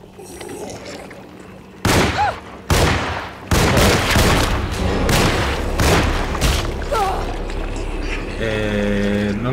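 Sharp, loud gunshots from Alone in the Dark (2024 remake) burst out one after another over a busy background, a fast irregular volley followed by a mechanical hum.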